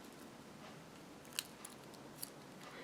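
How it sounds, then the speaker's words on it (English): Scissors snip through the string of a bracelet with a few faint, crisp clicks spaced out over a quiet, steady background. "it's just string, so I can use my scissors."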